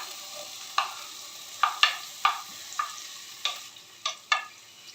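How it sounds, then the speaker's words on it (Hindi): Medium onion added to about two tablespoons of hot oil, frying with a soft steady sizzle broken by several sharp stirring scrapes and clinks of a spoon against the pan. "प्याज को हल्का सा फ्राई करती हूँ।"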